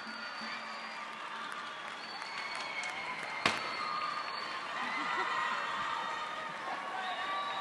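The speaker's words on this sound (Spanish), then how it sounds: "Más fuerte el aplauso, que se escuche." An audience at a Latin dance contest claps after a placing is announced, a moderate, somewhat distant spread of applause with background crowd murmur and a single sharp knock midway.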